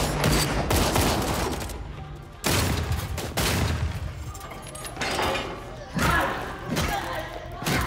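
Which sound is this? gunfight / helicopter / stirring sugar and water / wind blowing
gunfight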